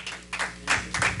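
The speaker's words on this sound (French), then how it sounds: "Est-ce qu'on peut applaudir notre Dieu intègre?" Brief applause from a church congregation during a sermon, a few uneven surges of clapping that rise and fall within about a second.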